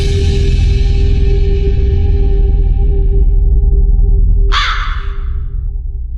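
A loud, close crow cawing, with a sustained harsh tonal call over a low rumbling background, then a sharp burst and a fading tail.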